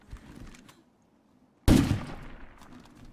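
A single sharp gunshot in State of Decay 2 cracks out loud and close after near silence, its echo trailing away over the next second, with faint scattered noise before it.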